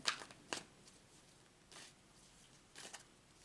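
Angels of Abundance oracle cards being shuffled in a few short, soft riffling bursts spaced apart, quiet and close with no talking.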